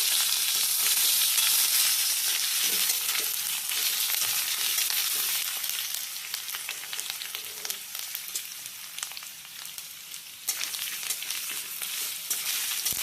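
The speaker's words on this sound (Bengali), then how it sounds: "আবারও ভালোভাবে নেড়ে চেড়ে নেওয়া হচ্ছে।" Soybean curry with grated ginger and green chili being stirred in a hot pan gives a steady, close, loud sizzle with frying crackle throughout, easing slightly in the second half.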